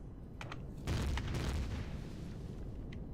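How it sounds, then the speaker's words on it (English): Secondary explosions rumble from a shot-down vessel breaking apart in a space combat video game, with a loud sustained low boom swelling near the middle and scattered sharper cracks around it. "Secondary explosions, as you can hear,"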